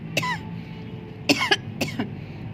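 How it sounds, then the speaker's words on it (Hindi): A woman coughs three times nearby: one short cough, a pause, then a quick double cough. The sharp bursts stand out clearly against a quiet indoor background. "मुझे खांसी आ रही है, लगता है मेरे गले में कुछ चला गया है"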